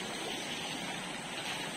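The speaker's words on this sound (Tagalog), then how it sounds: "Ilog yan." River water flows steadily beside rice paddies in a rural province, a soft continuous rushing wash that stays even and unbroken throughout.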